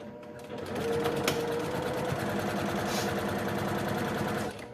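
Sewing machine topstitching a fabric 3D face mask, a close, steady rapid mechanical whir of the needle running continuously for a few seconds after a brief start.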